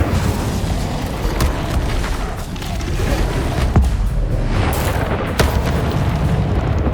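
An Incendio fire spell goes off in Hogwarts Legacy gameplay, a loud booming burst over dense game effects, with sharp cracks and rumbling throughout.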